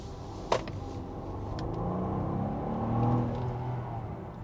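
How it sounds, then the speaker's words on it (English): A Mercedes-Maybach S 650 of well over 5,000 pounds and about 620 horsepower, driven in sport mode, gives a low engine rumble that swells as it accelerates, after a brief sharp click near the start. "Got it in sport mode, gonna give a little gas."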